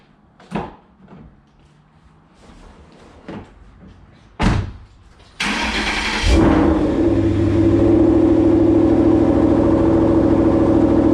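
A car is backed off wooden blocks: a few door thuds and clunks come first, then the engine cranks and catches, settling into a loud, steady idle that carries through to the end, with no talking.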